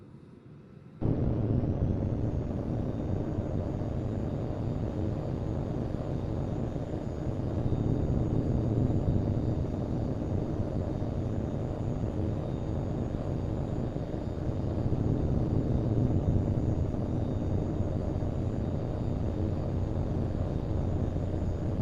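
A fighter jet in the video game H.A.W.X 2 spools up for takeoff, its engine jumping to a loud, steady roar that holds for about twenty seconds with slight swells in intensity.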